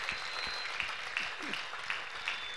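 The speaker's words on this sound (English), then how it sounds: "Can we clap for Jesus?" Church congregation clapping in a regular beat during a service, steady rhythmic claps over a busy room background with a few distinct louder hits, no talking over it.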